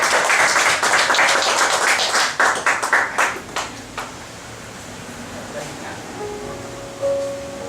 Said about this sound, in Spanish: Den un aplauso a nuestro Señor.